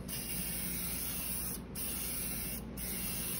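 A PreVal spray unit sprays a light mist in a steady, close hiss that pauses twice for a moment and then resumes.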